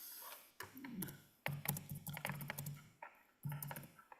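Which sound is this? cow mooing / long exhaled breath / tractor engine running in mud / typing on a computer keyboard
typing on a computer keyboard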